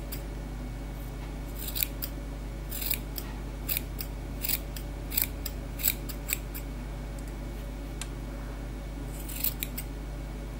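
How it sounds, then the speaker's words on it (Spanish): Scissors snip at a wool pom-pom to even it out, a series of quick, crisp close cuts in irregular bursts over a low steady hum. "ahora solo nos queda igualar el pompón con las tijeras"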